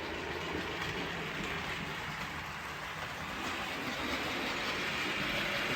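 A model railway locomotive that has been faulty runs along a branch line layout, producing a steady, continuous mechanical whirr and rumble throughout, close and unbroken.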